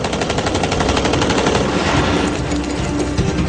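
A sustained burst of automatic rifle fire during a bank robbery shootout, rapid loud shots in a continuous rhythmic stream with no pause.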